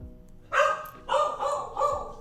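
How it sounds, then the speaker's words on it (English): A pet dog barks at the neighbour, four sharp barks in quick succession, close and fairly loud with no talk over them. "Gonna turn the old mic off when my dog barks at my neighbor."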